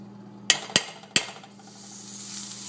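Butter dropped into a hot pan for a simple college spaghetti sauce, preceded by three sharp clinks of utensils against the pan, then a soft, steady sizzle rising and spreading close by with no talking.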